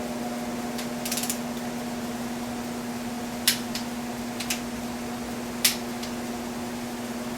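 A torque wrench tightens cylinder head bolts on a Rolls-Royce 20-25 engine, giving a few sharp, isolated clicks against a steady background hum.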